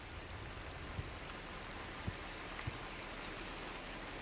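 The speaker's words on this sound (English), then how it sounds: "the next hour brings only more rain" Steady jungle rain falls in a soft, even hiss, with a few louder drops landing nearby.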